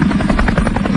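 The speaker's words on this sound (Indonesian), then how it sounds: "Ini dari helikopter." Loud, steady rotor thumping and engine drone of a helicopter over the Los Angeles fires, close and continuous throughout.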